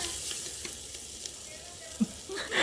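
Masala frying in a pan for chicken pulimunchi, a quiet steady sizzle with faint stirring and a couple of soft clanks near the end.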